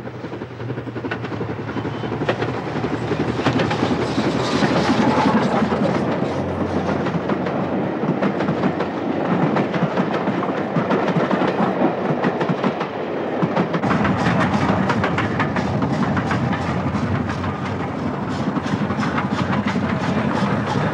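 A steam train on the line from Fort William along the shores of Loch Eil in Scotland rumbles loudly and steadily, its wheels clattering over the rails without a break.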